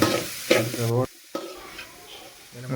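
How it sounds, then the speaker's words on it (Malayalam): Onions frying with curry leaves in a pan for a country-style chicken curry, stirred in loud scraping bursts over a steady sizzle, with a brief pause midway. "കുറച്ച് കരിയേപ്പിലയും കൂടെ ആഡ് ചെയ്ത് കൊടുക്കുന്നുണ്ട് എന്നിട്ട് വീണ്ടും നന്നായിട്ട് ഇളക്കി കൊടുക്കണം"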